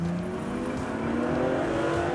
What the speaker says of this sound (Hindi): कार की आवाज़ जो एक एक्सपेक्ट करता है बंदा, वो इस गाड़ी में आपको बखूबी मिलती है।